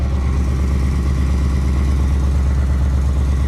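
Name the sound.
straight-piped Mustang GT exhaust idling in quiet mode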